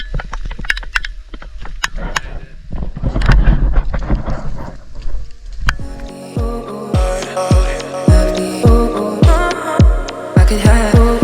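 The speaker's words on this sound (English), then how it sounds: "Here comes the hail!" Hail hammers down on a camping trip, starting with scattered sharp cracks and a dense pelting roar, then settling into rhythmic deep thuds and a loud rattling wash of impacts.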